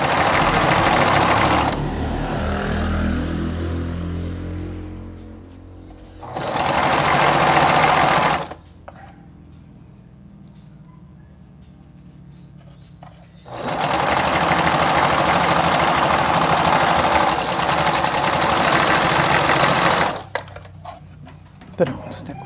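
Sewing machine stitching a hem on the wrong side of fabric, loud steady whirring bursts of several seconds each separated by quiet pauses.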